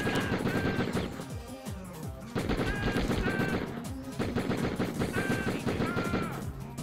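Continuous automatic gunfire from the video game Die Hard Trilogy, dense rapid bursts with clattering impacts filling the whole stretch, loud and sustained with brief dips between volleys.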